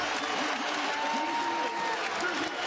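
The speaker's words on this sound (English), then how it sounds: "This is as loud as this crowd's been since the Albany game" A college basketball arena crowd roars and applauds during a tight Iona vs. Siena game, a dense, sustained wall of cheering noise throughout.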